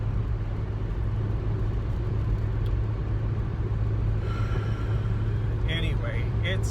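Inside a small medium-dark blue Toyota Yaris on the move, a steady low engine and road rumble hums throughout, with faint whistling wind noise rising near the end.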